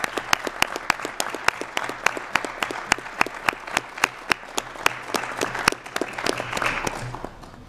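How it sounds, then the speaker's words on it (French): Polite applause at a multistakeholder advisory group meeting for an ambassador, a small group clapping in a steady, even rhythm with distinct individual claps, moderately loud and gradually fading. "j'aimerais terminer par un simple applaudissement pour l'ambassadeur Karklins"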